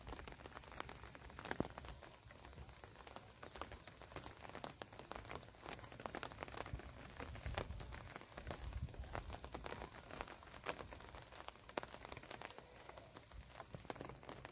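Heavy monsoon rain falls in the Sundarbans, a quiet but continuous patter of drops striking surfaces, with scattered sharper taps spread through the steady wash of rainfall.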